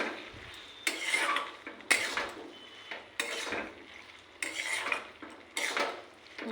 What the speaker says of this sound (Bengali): এরপরে চিংড়ি মাছ দিয়ে দিব